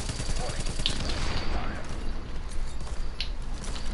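Shotgun gunfire in The Division video game, heard as a dense run of repeated blasts with mechanical clatter. It is loud and continuous across the moment, with a voice talking over it.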